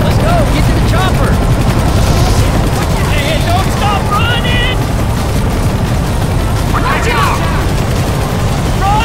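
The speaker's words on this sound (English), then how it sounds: "Get to the chopper!" Helicopter in Left 4 Dead 2 on the Dark Carnival map, a loud steady rotor roar filling the whole clip beneath bursts of game gunfire and booms, with several players' voices talking over it.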